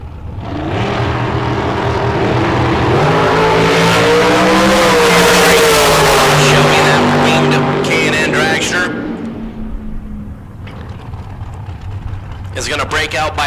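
A Racecraft-prepared dragster runs at a drag strip during a bracket race, its loud engine roaring and rising in pitch, then fading, with an announcer talking over it and the crowd and track noise around.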